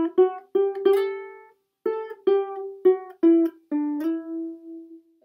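Solo ukulele plays the verse melody of a song close up, without talk. Single plucked notes come in two short phrases separated by a pause, and the last tone rings out and slowly decays.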